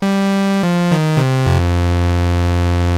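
Yamaha CS70M analog synthesizer playing a sustained tone with sawtooth and square waves together on a single oscillator, stepping through a few short pitch changes before settling into a held, buzzy, loud chord.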